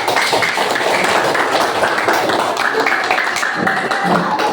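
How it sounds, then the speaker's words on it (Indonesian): Schoolchildren in a classroom clap for a classmate. The continuous, busy clapping stays loud and even from start to finish. "Kasih tepuk tangan dulu."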